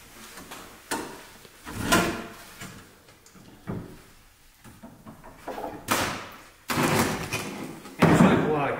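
An old door in an abandoned mansion swings shut and is locked, giving several wooden thuds and clunks with a rattle of hardware near the end, close by, while people talk between the knocks.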